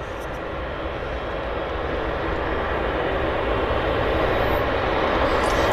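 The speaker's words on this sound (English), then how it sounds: "the Q400 is heading to Kelowna, the WestJet Q400." A WestJet Q400 turboprop airliner at Vancouver Airport gives a steady, broadband engine roar that holds close and loud throughout, swelling slightly toward the end with no voices over it.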